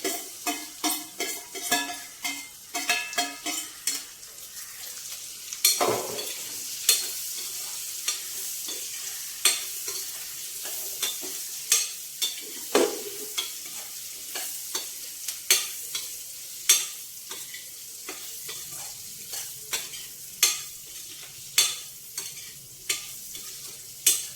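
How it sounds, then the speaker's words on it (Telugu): Onion frying in hot tempering oil in a pan, a steady bright sizzle with a continuous run of rhythmic spatula clicks and scrapes throughout, close and fairly loud. "ఇప్పుడు ఇందులోకి ఉల్లిపాయ వేస్తున్నాం"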